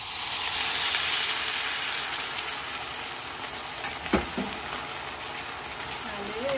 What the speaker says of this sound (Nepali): अघि घोलेको यो पानी यहाँ हाल्छ